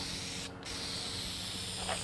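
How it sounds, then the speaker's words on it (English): A paint spray gun hisses steadily and loudly spraying self-etching primer on damaged paintwork, a continuous airy spray with a brief dip near the start. "And with the paint gun, I can do this a lot faster. Bigger spray"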